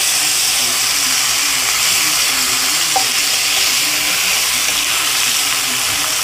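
Potatoes fry in a pan with a loud, steady sizzle and hiss that runs unbroken throughout, with faint stirring beneath.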